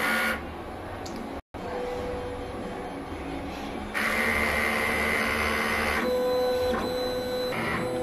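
A DTF printer runs a head cleaning cycle, a steady mechanical whir with pump and carriage motor tones that shift in pitch partway through, broken by one brief gap.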